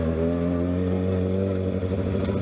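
A 2020 Kawasaki ZX6R KRT sport motorcycle engine idling high and revving, a loud, steady, buzzy four-cylinder drone heard close up, with a slight rise in pitch near the end and no speech.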